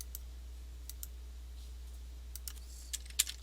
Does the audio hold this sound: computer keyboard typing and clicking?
yes